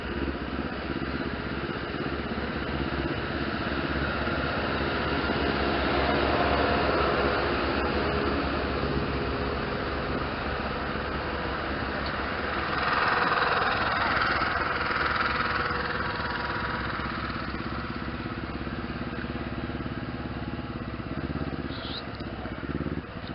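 A motorcycle engine idles steadily and close by on a muddy mountain road descending the Serra de Paraty, a continuous low rumble with slight swells throughout.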